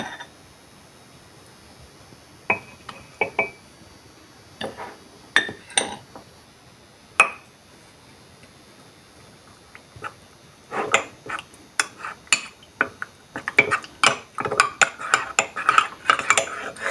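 Two tablespoons of custard powder being stirred into lukewarm milk for an Eid nababi shemai dessert: a spoon clinks against a bowl in sparse taps at first, then quicker, busier stirring clatters near the end.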